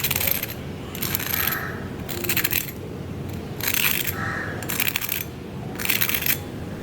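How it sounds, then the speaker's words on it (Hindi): Crisp, bright crunching bursts repeat in short rhythmic bouts, loud and close, like crispy fried snacks being bitten or broken. "तो देखिए कितने क्रिस्पी बनके तैयार हुए हैं। ये आपको आवाज़ से ही अंदाज़ा हो गया होगा।"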